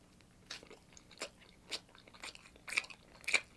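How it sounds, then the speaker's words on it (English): A Wawa cheeseburger is chewed up close, with a series of crunchy bites and wet chewing sounds recurring roughly every half second, with no talking. "That was how I'm just chewing."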